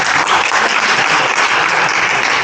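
A lecture audience at an architects' association applauds the professor. The dense, steady clapping from many hands runs loud and even for a few seconds, with no voices over it.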